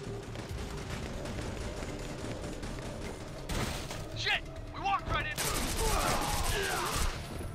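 Gunfire from a very powerful weapon in the video game Devil's Third, with bursts of rapid shots cutting in over a steady rumbling game soundscape and a voice speaking over the action.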